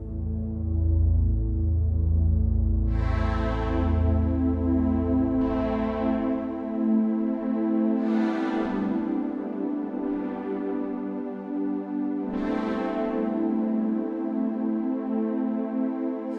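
A sustained synth string pad from the 2Gether Cheeze Machine 2 plugin holds chords, its brightness swelling and fading repeatedly as the mod wheel opens and closes a filter, loud and alone.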